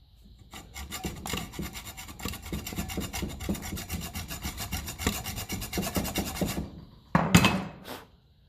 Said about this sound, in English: I'm gonna get the bigger hacksaw at that.